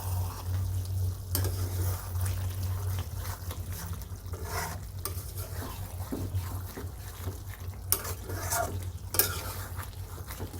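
A spoon stirs a potato and katla fish curry seasoned with garam masala powder in a pan, scraping and sloshing in short strokes over a faint sizzle, with a low hum beneath.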